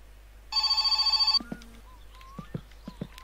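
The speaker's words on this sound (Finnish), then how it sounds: "No nyt joku soittaa" In the video game My Summer Car, a telephone bell rings in one rapid, pulsing burst of about a second, followed by a few scattered clicks and soft knocks in a quiet room.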